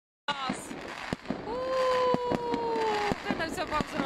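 New Year fireworks salute over a residential district in Ryazan, with sharp repeated bangs and crackles plus a long whistling rocket tone, fairly distant, while people nearby talk over it.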